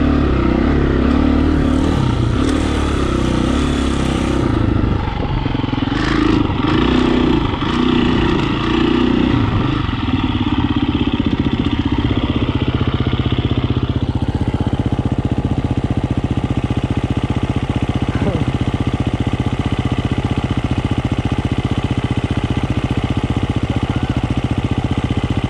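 A motorcycle at an off-road riding area idles nearby with a steady, loud drone, its tone wavering through the first half before settling into an even, unbroken running hum.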